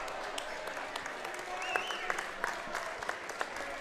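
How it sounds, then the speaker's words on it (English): Applause from the crowd at a high school basketball game in a gym, a steady patter of clapping with a few sharper claps, moderately distant, as a player leaves the court. "He gets an applause on his way out."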